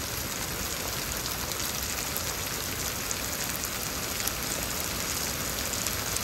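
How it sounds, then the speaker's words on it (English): Hail falling during a Houston thunderstorm, a dense, steady hiss of countless small impacts on surfaces, even and fairly loud throughout, with no voices. "Yeah, it's hailing."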